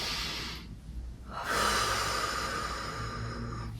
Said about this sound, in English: A nice deep breath.